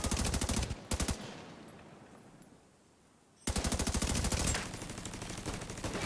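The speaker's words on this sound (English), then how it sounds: "Go, turret, go." Automated turret in The Division 2 firing rapid bursts of gunfire, loud and close, with a pause in the middle before the steady rattling resumes.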